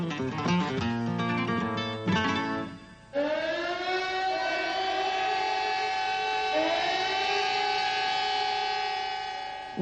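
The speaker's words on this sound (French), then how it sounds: "Lorsque les sirènes ont sonné," Civil defense sirens sound over Barcelona in 1936, a loud wailing tone holding steady after a brief break, with layered pitches rising and sustaining alone.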